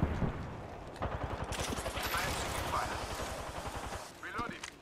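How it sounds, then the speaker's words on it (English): Fuse's knuckle cluster launcher fires in Apex Legends, a fast, steady string of popping bursts with a voice heard over the top. "knuckle clusters firing was in the air"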